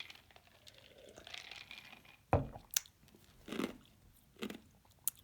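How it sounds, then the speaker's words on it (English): Ice being chewed close to the mouth, a series of sharp, irregular crunches with a few softer bites in between, with no talking over them. "Chewing ice is bad."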